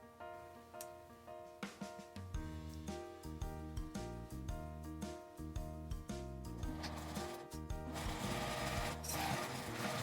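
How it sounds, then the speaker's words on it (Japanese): A sewing machine stitches fabric for a small coin purse, its needle running in quick rhythmic bursts with short pauses between runs, close and steady. "こちらも開いて表だけ端ミシンをかけておきます。"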